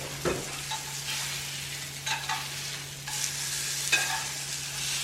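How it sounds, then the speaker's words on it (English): Sausage sizzles gently in a pan with intermittent scraping stirs, a few distinct clatters spaced a second apart over a constant low hum. "the sausage is done because I'm pretty sure it was making noise in the background of my video"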